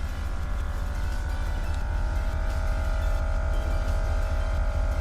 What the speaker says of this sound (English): I'm actually seeing how high the air ride pumps the car up to